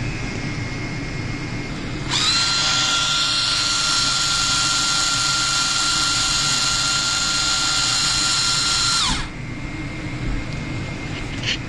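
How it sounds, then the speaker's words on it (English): A hexapod robot's lift-leg motor, switched from a propeller demo board, drives a linear actuator with a steady high-pitched whine that starts abruptly, holds for about seven seconds, shifts pitch, then cuts off over background hum. "This is a test of the lift leg, the lift motor, using a couple switches here on a propeller demo board."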